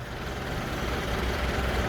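A new SANY SY35U mini excavator runs its engine at a steady, low idling hum heard from moderately near, unbroken and without voices.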